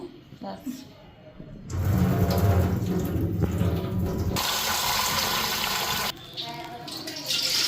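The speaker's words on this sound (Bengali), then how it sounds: "এই যে চাউল নিলাম, ধুইতাছি এখন ফ্রাইড রাইস বানাবো।" Rice is rinsed under running tap water, a brief voice and quiet handling first, then a steady gush and splash filling the vessel for several seconds, close and fairly loud.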